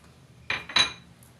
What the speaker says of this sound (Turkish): Biraz da böyle yağ eriyene kadar karıştıracağım.